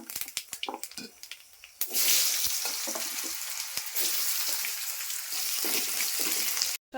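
Nigella seeds crackle in hot oil in a quick run of sharp pops, then potatoes go in for okra chorchori and a loud, steady sizzle takes over until it cuts off.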